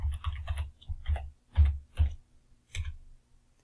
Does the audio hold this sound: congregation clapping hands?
no